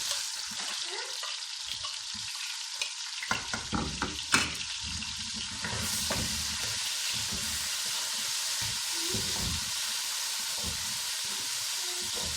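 Tomatoes fry in a pan for a brinjal and potato dish, giving a continuous close sizzle and hiss with scraping stir strokes and occasional clinks of the spoon.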